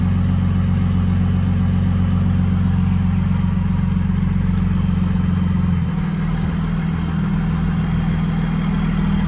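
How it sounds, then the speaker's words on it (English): A tuned pickup truck idles loudly up close with a deep, steady rumble and throb. The pitch shifts slightly partway through, and nobody speaks. "This truck is loud."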